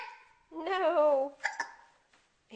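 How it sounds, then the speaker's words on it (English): Young child hiccuping at home, a few short voiced hiccup-like catches mixed with a drawn-out vocal sound, fairly close and moderately quiet. "He got hiccups."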